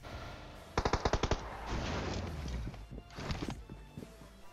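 In PUBG Mobile, a burst of about six rapid gunshots rings out, followed by rumbling noise and a few scattered, fainter shots.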